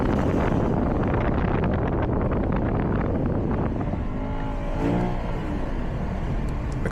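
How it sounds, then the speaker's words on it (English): A car launches hard with traction and stability control switched off, its engine roaring loudly and steadily under heavy wind noise before the pitch climbs through the revs. "I'm going in with no traction control, no stability control, and you see I have full control of the throttle and I have a great start"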